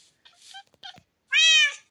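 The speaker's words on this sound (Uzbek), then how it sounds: "Mushuk." A cat in a video game meows, a few faint chirps leading into one clear, loud drawn-out meow, with no talking over it.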